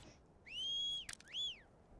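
Two clear whistle tones in the video game Dark and Light, a long sliding note then a shorter one, separated by a brief click, bright and isolated against quiet.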